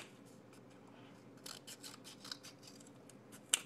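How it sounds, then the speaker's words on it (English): Scissors snip through a cardboard toilet paper tube, a short series of close, crisp cuts spaced irregularly, with a sharper final snip near the end. "take your toilet paper roll and you're just going to cut smaller pieces like this"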